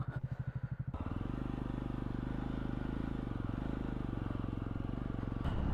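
A Triumph Scrambler 400 XC motorcycle idles with a loping thump, then settles into a steady, loud, close engine drone while riding, with no one talking.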